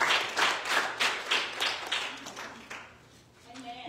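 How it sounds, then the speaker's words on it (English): Church congregation claps hands in a steady rhythmic beat, about one clap every half second, loud and close, fading out as a voice begins to speak. "When you clap your hands up"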